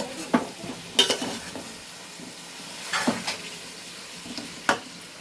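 Ginger-garlic paste and ground spices stirred in a frying pan for a mutton dum with small potatoes and peas, a few scraping strokes over a faint sizzle, no voices.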